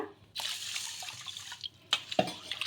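Fenugreek seeds and rice being washed in water in a kitchen, soft sloshing and swishing with a few drips and splashes, faint and close, no talk.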